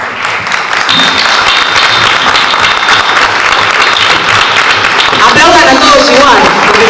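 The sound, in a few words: audience applause for presented officials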